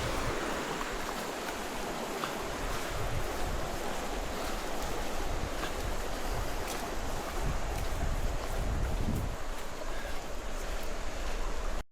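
Steady broadband rush of the Casselman River flowing in western Pennsylvania, heard from a bridge crossing, a continuous wash with some wind noise and no talk.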